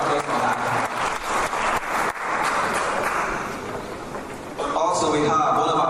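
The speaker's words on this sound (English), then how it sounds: "Please a round of applause for that." An audience applauds the Nigerian ambassador at an African fashion reception in Paris, with dense, steady clapping filling the room throughout and voices mixed in, easing slightly before swelling again near the end.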